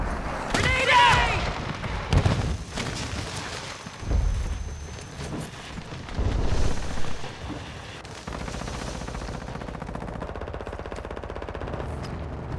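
Grenade blasts and bursts of automatic gunfire in a Call of Duty battle-royale match, loud booms and crackling shots rising and falling in waves, with voices heard among the noise.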